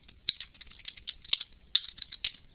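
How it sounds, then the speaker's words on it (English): Rapid, light clicking of typing on a computer keyboard, close and fairly quiet, with irregular keystrokes and a few sharper taps, no talking. "Sorry, I'm typing."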